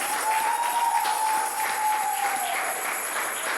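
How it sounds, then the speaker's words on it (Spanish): A church congregation at a Sunday gathering claps loudly and continuously, a steady wash of applause with a faint sustained tone running through it. "¿Cuánto le pueden dar un fuerte aplauso al Rey?"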